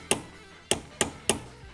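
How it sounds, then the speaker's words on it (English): Four sharp metallic taps from a brass hammer driving a bolt into a 1974 Honda XL70 motorcycle: one tap, a pause, then three quick evenly spaced strikes, close and clear in a quiet workshop. "This is a brass hammer, which is important to note."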